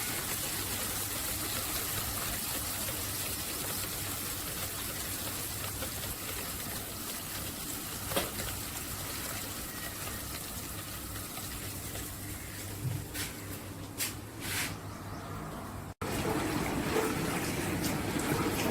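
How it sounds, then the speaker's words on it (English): Water flowing steadily into a Samsung dishwasher running a one-hour program after an error-code repair, a continuous close rushing gush with a few clicks near the end and a brief shift in tone. "The water coming."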